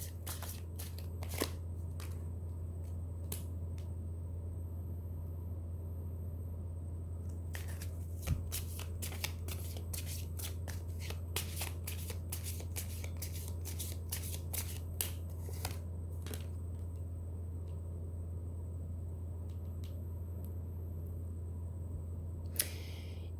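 Tarot cards are shuffled and drawn by hand close up in a quiet room, with a long run of soft riffling and crisp flicking snaps over a steady low electrical hum, no talking.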